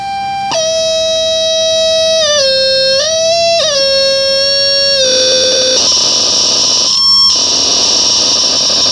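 Harsh, heavily distorted electronic tones through a Metal Zone distortion pedal wail and shift in pitch, sliding between notes before breaking into a gritty, noisy roar, loud and continuous.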